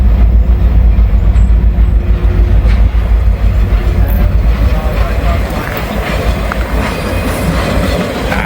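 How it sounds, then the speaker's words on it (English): A local freight train with a caboose passing at a big junction near Park Avenue, loud and close, with heavy low rumble, rhythmic wheel clatter over rail joints and occasional metallic squeals. "Looks like we got a local with a caboose."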